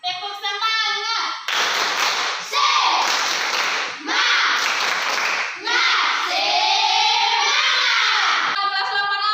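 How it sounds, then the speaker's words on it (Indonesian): Students in a grade 8 classroom do a rhythmic spirit clap, bursts of patterned group clapping and chanting alternating with a teacher's voice at the start and end. "Tepuk semangat."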